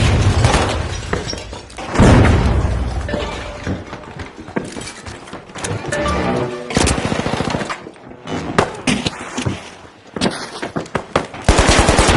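In the video game The Finals, a frag grenade is thrown and explodes amid dense, loud gunfire, with rapid automatic bursts, sharp bangs and shattering debris crowding a busy, chaotic firefight.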